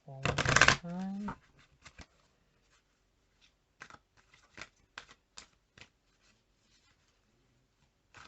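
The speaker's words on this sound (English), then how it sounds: "Shuffle one more time." A deck of tarot cards is shuffled in a short loud riffle at the start, followed by scattered soft card taps and slides during a reading.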